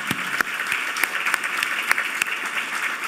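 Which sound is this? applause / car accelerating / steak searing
applause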